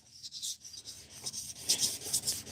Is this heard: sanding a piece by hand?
yes